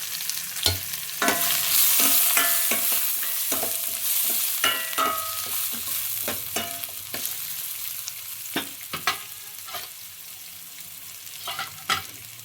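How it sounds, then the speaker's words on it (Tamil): Onions sauté with curry leaves in a pan while a spoon scrapes and stirs, giving repeated clacks over a soft, steady sizzle as sambar is made for rice and dosa. "வெங்காயம் வதங்கிடுச்சு."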